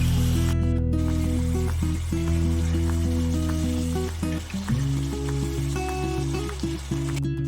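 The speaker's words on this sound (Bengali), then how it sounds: "মশলাটা এখন পুরোপুরি কষানো হয়ে গেছে, ওপর থেকে তেলটা বেশি উঠেছে মশলা থেকে" Spice paste frying in oil in a pan for a Bengali fish curry with cauliflower and potato, a steady sizzle under a constant background hum, with occasional stirring scrapes.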